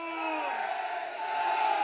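A crowd at a Patidar community mahapanchayat rally in Surat, chanting together in a loud sustained roar of many voices with no distinct clapping.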